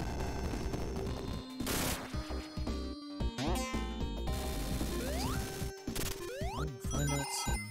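Rapid automatic enemy fire in Sonic 3D Blast, dense bursts of synthetic shots and crashes layered over game music and sound effects, loud and continuous.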